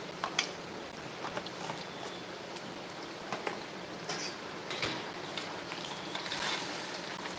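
Chilli powder and spices fry in hot tempering oil for a Gujarati home-cooked meal, giving a steady, soft sizzle with light stirring scrapes throughout and no talking.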